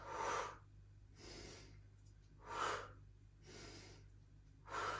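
Deep breaths during a full-body pilates exercise: slow, close inhales and exhales alternate in a steady rhythm, about five breaths, with no talking.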